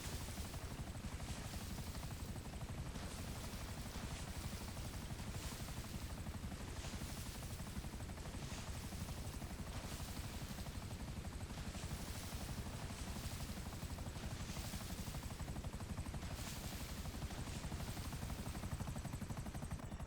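A helicopter in the video game Grand Theft Auto V drones steadily throughout, its rotor thumping in a regular pulsing beat, loud and close, with no voices.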